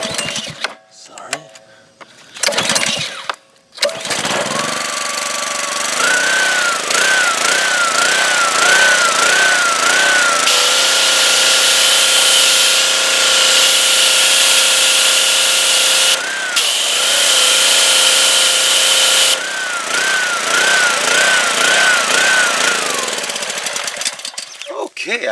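A gas-engine pressure washer is pulled over and then catches, its engine running loud and steady with a wavering pitch through most of the stretch after a few short false starts; a voice speaks briefly near the beginning.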